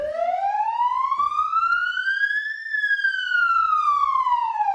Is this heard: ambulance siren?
yes